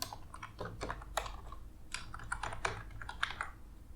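Rapid keystrokes on a computer keyboard while writing Laravel web app code, an irregular run of close, crisp clicks with brief pauses and no talking.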